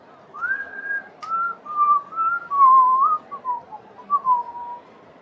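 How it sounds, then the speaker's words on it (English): Low, wavering human whistling plays alone as a soft, slow tune of several held and sliding notes, fairly close and steady, with no talk over it. "starts whistling, just sort of in a low pitch, that whistle that you had heard before."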